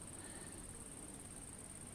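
Small red mosquitoes buzzing in the evening air beside a pond during float fishing, a faint steady high whine that runs unbroken under a soft outdoor hiss, with no voices present.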